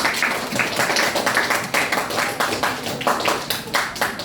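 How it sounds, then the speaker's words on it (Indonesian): A classroom group claps steadily and fairly loudly, many hands beating in a dense, uneven rhythm that continues throughout. "Boleh beri tepuk tangan untuk kelompok pertama."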